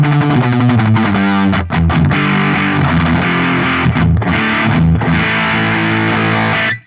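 Electric guitar on the bridge pickup played through an Axe Fx III Fuzz Face drive, thick, bassy and heavily distorted, with sustained fuzzy chords and a couple of brief gaps, loud and alone.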